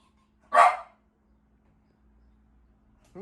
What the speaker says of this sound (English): Who's barking over there?